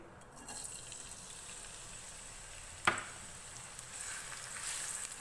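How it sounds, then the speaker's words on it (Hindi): Finely chopped medium onion frying lightly in hot oil, a soft steady sizzle with a single sharp clack partway through, quiet and close, no talk. "ऑयल में इसको हल्का सा फ्राई करेंगे, बहुत ज़्यादा गोल्डन ब्राउन नहीं करेंगे।"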